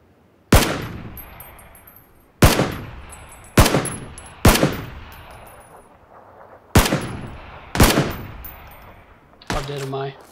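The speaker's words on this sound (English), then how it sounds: "Well, it's you shooting." Seven sharp, loud gunshots ring out alone at irregular intervals, each followed by a short echoing decay, during a firefight in hilly terrain; a brief voice sounds at the very end.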